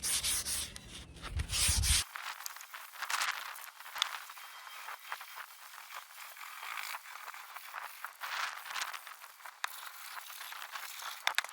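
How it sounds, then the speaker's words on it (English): Steady rasping of sandpaper on wood, rhythmic back-and-forth strokes close by, preceded by a brief louder rough burst at the start. "I'm going to go ahead and finish this up, sanding it"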